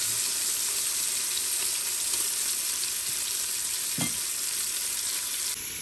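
Pork carnitas meat browning in an Instant Pot gives a steady, close sizzle and frying hiss with occasional stirring scrapes and a brief knock near the middle, no talking.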